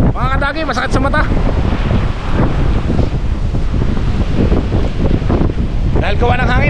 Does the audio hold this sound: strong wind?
yes